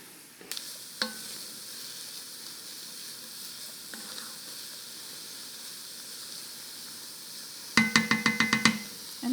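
Onions sauté in butter for Quebec-style yellow split pea soup, hissing and sizzling softly up close, broken by a few clicks and a quick run of spoon taps against the pot near the end.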